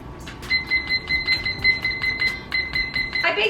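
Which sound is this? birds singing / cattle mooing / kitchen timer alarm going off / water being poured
kitchen timer alarm going off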